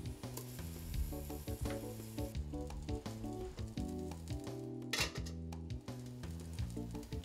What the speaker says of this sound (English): Place pork belly slices over the top. Cover, reduce heat to low, and cook for about 3 minutes.